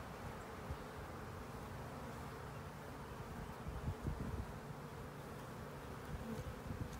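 Honey bees swarm around a hive during a queen installation, making a continuous low, droning buzz that is steady and moderately close, with occasional louder swells as individual bees pass nearby and no speech.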